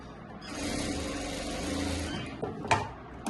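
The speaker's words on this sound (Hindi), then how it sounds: "तो डबल सिलाई देते हैं" A sewing machine stitches a double seam on a Rajputi kurti, a steady, faint mechanical whir running for nearly two seconds before stopping, followed by a few soft clicks and handling taps.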